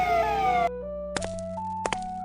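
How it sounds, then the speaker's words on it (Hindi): A cartoon police car siren wails in falling and rising tones, then cuts to steady held pitches with a few sharp clicks and pops, fairly quiet and alone. "एक दिन शाम को रिजॉर्ट में पुलिस की गाड़ी आ पहुंची।"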